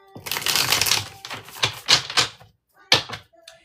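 Tarot cards shuffled by hand in a cluster of crisp riffling and slapping bursts, loud and close, with a short pause before one final snap.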